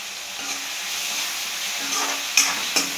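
Egg masala fries in oil with a constant bright sizzle, punctuated near the end by a couple of sharp clinks or scrapes against the pan.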